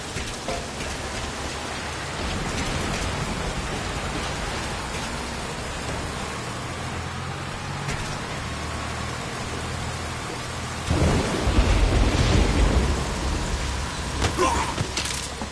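Rain pours steadily in the Metal Gear Solid V video game, a dense hiss of drops on surfaces, with a deep rumble of thunder swelling late in the passage.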